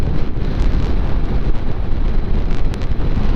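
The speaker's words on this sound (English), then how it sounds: "Lots of wind hitting you." Strong wind buffets the microphone of a rider on a moving motorcycle, a loud, constant roaring rush that fills the whole stretch without a break and with no voices.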